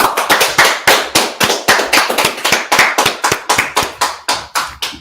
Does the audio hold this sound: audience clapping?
yes